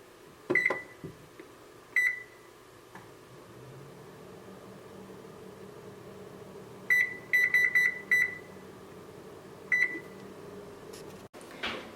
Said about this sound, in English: now I'm just going to put them in the oven and bake them for 1 hour